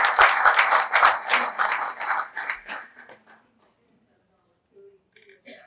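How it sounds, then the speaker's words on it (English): At a political party chair candidates' forum, an audience claps for a few seconds in dense, lively applause that thins out and fades to near silence, followed by a few faint noises. "you can take the cue from the applause there"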